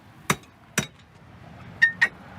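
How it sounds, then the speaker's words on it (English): A hammer strikes a rusted car axle assembly four times in a garage, two dull hits followed by two ringing metallic clanks, each sharp and close. "We need lube and a hammer to get this apart."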